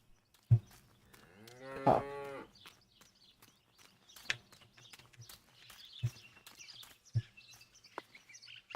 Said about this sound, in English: The cows.